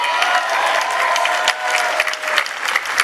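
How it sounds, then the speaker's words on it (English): A large audience at a San Diego Comic-Con panel applauds loudly and continuously, with some cheering mixed into the dense clapping. "a round of applause for his directorial debut last year."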